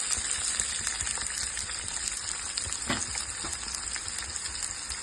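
Cumin, whole spices and chopped onions sizzle in hot oil, making a steady, hissy frying wash with faint clinks, moderately quiet and close, with no talking.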